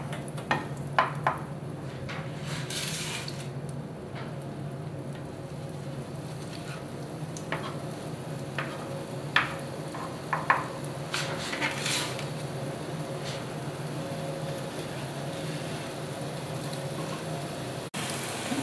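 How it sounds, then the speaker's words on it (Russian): Meat and potato patties fry in oil in a pan, a faint steady sizzle running under frequent clinks and scrapes of utensils against the cookware. "Котлеты обжариваем на масле."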